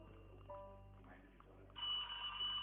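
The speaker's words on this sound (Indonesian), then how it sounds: "Matiin lang telepon nih." A telephone rings in the horror video game The Ghost, a bright shrill trill starting partway through and continuing steadily over a low game ambience.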